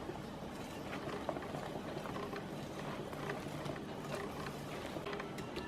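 A whisk stirs cookie batter made with vegetable oil and starch in a bowl, giving a soft, steady wet swishing with faint clicks against the bowl, fairly quiet and alone.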